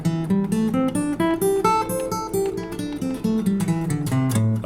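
Notes of a guitar run up and down a minor pentatonic scale, plucked one at a time at a steady moderate pace, clear and close.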